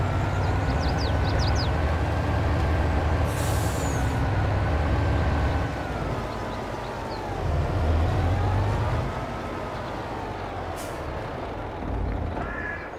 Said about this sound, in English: nice engine sounds.